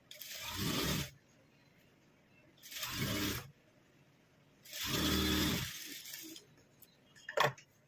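Three bursts of a sewing machine run a straight line of stitching on a silky saree fabric, each a whirring mechanical run of about a second, separated by quiet pauses, ending with a couple of small clicks.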